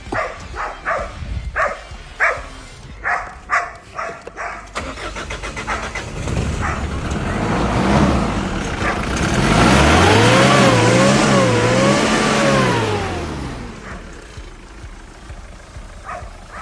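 A Mitsubishi Pajero that has sat unused for some days cranks and fires up, then revs up and down in a rising and falling roar before settling back to a steady idle, loud and close with no talking.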